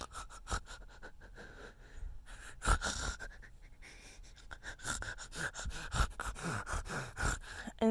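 A voice mimics snoring with irregular snorts, gasps and ragged breaths, each burst arriving at uneven intervals with no steady rhythm.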